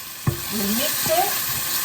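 Passata is stirred into prawn rice in a pan over a steady frying sizzle, with a sharp scrape of the spoon early on and softer scraping and stirring movements after it.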